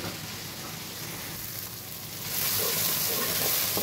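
Onions sizzle steadily in a frying pan, a continuous close hiss that grows louder and brighter partway through, with no one talking.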